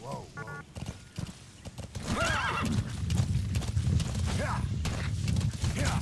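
A horse in Metal Gear Solid V: The Phantom Pain whinnies loudly, then hooves clip-clop steadily over a low rumbling background, with brief game chimes at the start.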